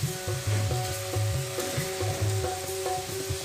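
Chicken for Kerala-style chicken thoran being mixed with salt in a pan, a steady low sizzle with repeated soft scraping strokes from a spoon, close and continuous with no talking.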